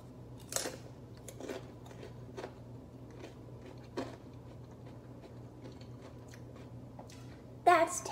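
Someone tasting a mix of plant ingredients, quiet intermittent crunchy chewing and bites spaced a second or so apart, with a louder rustle or voice burst at the end.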